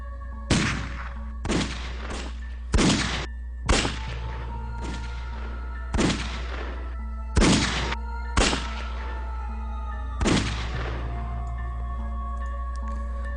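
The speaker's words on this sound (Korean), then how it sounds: "총소리가 굉장히 긴 여운을 남기며 사라져 갔다고 하더군요" Irregular gunshots ring out one after another, around ten sharp cracks spread unevenly, each trailing off in a long echoing decay over a steady low rumble.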